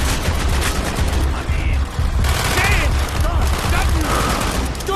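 Heavy rifle and automatic gunfire in a Call of Duty: Black Ops battle, a dense, loud barrage of overlapping shots with shouted voices mixed in throughout.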